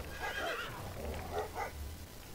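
A horse in LEGO Worlds gives a couple of whinnying neighs, fairly soft and alone, with a faint low rumble and hint of hoof clops beneath.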